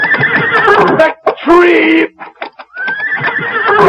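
A horse whinnies and neighs loudly and close, with shrill, trembling calls repeated several times and a brief gap between them, while someone speaks briefly over it.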